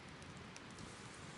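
Steady rain falls during a storm at a forest camp, a dense constant patter of drops on surfaces with no voices.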